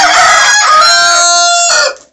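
Chickens and a rooster crowing on a farm: a loud, drawn-out rooster crow with hens clucking around it, the call holding steady for about two seconds before cutting off.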